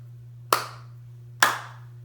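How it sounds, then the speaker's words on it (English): Two sharp hand claps, evenly spaced about a second apart, mark beats, each crisp and close with a short decay over a low steady hum, no talking. "When I put a rock on a plate, I'm going to clap."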